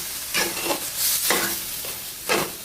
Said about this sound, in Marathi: यामध्ये थोडासा पाण्याचा हपका देणार आहे की हे मसाले खाली सगळे कढईला चिपकू नयेत म्हणून